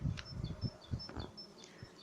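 Honeybees buzzing faintly at the entrance of a hive with drone brood, with soft intermittent hums and small knocks and handling sounds close by.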